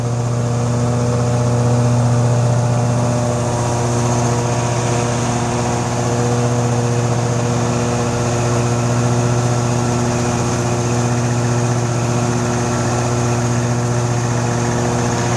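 An Amtex Inferno 3047 machine runs steadily while cooling off, a loud, continuous engine drone with a strong low hum and even tone throughout, and no talking.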